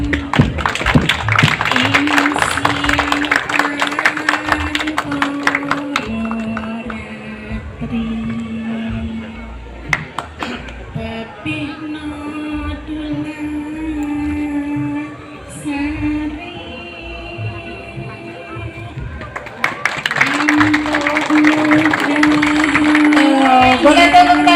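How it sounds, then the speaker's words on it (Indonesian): At a cultural festival opening at Candi Gedong Songo, a crowd claps in dense bursts at the start and again near the end, with music and a voice carrying through the middle stretch. "Boleh tepuk tangan untuk para hadirin dan pengunjung"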